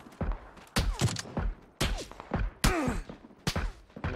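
Rapid bursts of M24 rifle gunfire in a video game firefight, several sharp loud shots at irregular intervals with faint background voices.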